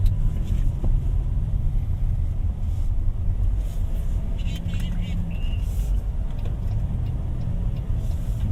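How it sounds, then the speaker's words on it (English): Cabin of a 2023 Toyota Zenix 2.0 Q Hybrid driving gently on light throttle, with a steady low road rumble and smooth engine hum throughout, faint interior clicks above it. "I'm just a little light on the throttle, and the vehicle moves very,"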